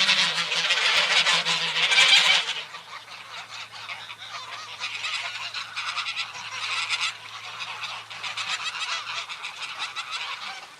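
A flock of ducks on a duck farm keeps up a loud, dense chorus of honking quacks, louder at first and then steady, with no voices.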